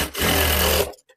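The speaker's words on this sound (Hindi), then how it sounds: "तो दोस्तों मैं इसमें डबल सिलाई लगा रही हूँ" A sewing machine runs a fast, steady double line of stitches along folded blouse fabric at a tailoring shop, loud and continuous for about a second before stopping abruptly.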